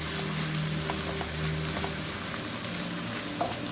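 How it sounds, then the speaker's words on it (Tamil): Drumstick (murunga) leaves sautéed quickly in a pan give a steady, moderate sizzle with soft stirring scrapes, and no talking over it. "இப்போ நாங்கள் எவ்வளோ குயிக்காக எடுக்க முடியுமோ அவ்வளோ குயிக்காக வதக்கிட்டு எடுத்துடணும்"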